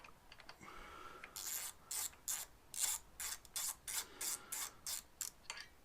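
A ratchet wrench snugs the filter-cover bolts on a 2016 Honda CRF250L, giving about a dozen quick, evenly spaced clicking bursts, close and fairly quiet, with no talk.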